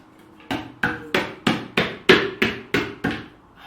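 A lid being tapped shut on a container of paste resin for terrazzo repair, nine evenly spaced sharp knocks, close and clear with nothing else heard.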